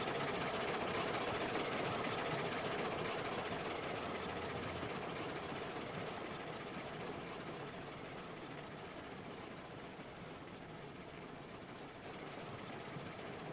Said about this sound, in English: Maybe I'll go fire up that other engine.